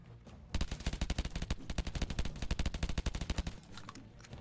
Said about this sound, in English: Those are fire bolts.